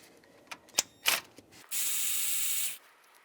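An 8mm socket on a power driver spins out valve cover bolts on a 2011-2018 Ram 1500, one sharp whirring burst of about a second after a few metallic clicks and taps, close and fairly quiet.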